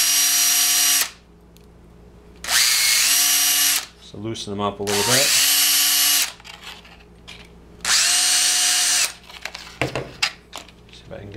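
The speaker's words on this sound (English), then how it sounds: "so I'm just going to re-drill these holes quick." A power drill re-drilling holes in a homemade wine must mixer and degasser runs in three loud, sustained bursts with short pauses between, and someone talks in the gaps.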